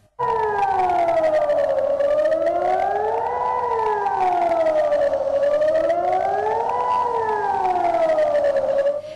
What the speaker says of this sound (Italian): Le sirene hanno suonato per 3 volte consecutivamente